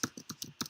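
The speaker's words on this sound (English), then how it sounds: "I'm just typing it up in here." Fast, light keystrokes on a computer keyboard, about eight crisp clicks packed into under a second, close and quiet with no talking.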